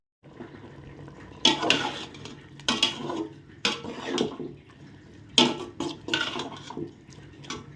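A plate is set over a pot of sambar on a home stove, giving several sharp metallic clinks and clatters spaced a second or so apart against a quiet kitchen background.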